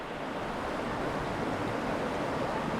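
Strong current of flood water rushing past where a flood control structure collapsed and houses were washed away in Angeles City, Pampanga; a loud, steady broadband roar fills the whole clip with no speech.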